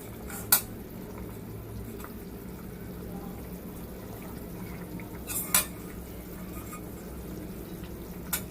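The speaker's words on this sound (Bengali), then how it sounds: "ঝোলটা ফুটে গেছে, এবার ভালোভাবে মাছটা দিয়ে দেবো।" Fish slipped into curry already boiling in a pot, with a low bubbling simmer throughout and two or three sharp metallic clinks of utensil against pot, close and fairly quiet.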